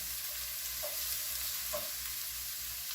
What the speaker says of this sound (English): I want to get the onions and garlic translucent